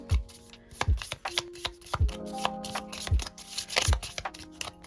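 A deck of tarot cards is shuffled by hand in a quiet room, with a series of crisp riffling bursts and soft taps recurring in an uneven rhythm, close and without voices.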